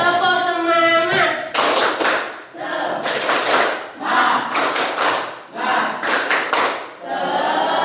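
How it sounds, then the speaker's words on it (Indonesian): A classroom of children performs a rhythmic 'tepuk semangat' clapping chant, with bursts of group claps and shouted voices repeating in several short phrases, loud and close. "Ayo tepuk semangat bersama-sama."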